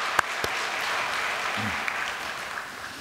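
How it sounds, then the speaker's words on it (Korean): Church audience applause, a steady wash of many hands clapping at moderate volume with a few sharper claps standing out. "선교본부를 위해서도 박수 한번 보내겠습니다"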